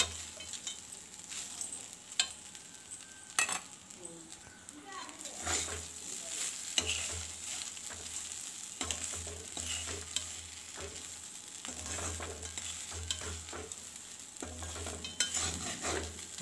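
Leftover cooked rice is stirred as it fries in a pan, with a continuous sizzle broken by repeated scraping and clacking strokes of a spoon against the metal. Intermittent clicks are heard, with no voices.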